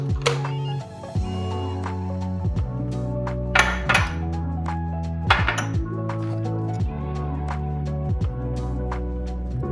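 Glass candle jars clink and knock against each other and a hard surface as wicks and clips are set in them, a series of bright ringing taps and clatters, close by, with no talking.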